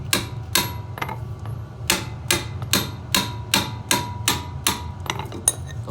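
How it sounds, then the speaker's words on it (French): A small hammer taps a lawnmower blade to loosen its bolt, giving about a dozen sharp metallic knocks at a steady, slightly uneven pace over a low background hum. "vous prenez un petit marteau et vous mettez des petits à-coups"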